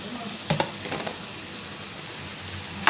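Onions and green chilies frying with meat in a pan over a low flame, a steady soft sizzle with a couple of brief stirring scrapes near the start and another at the end.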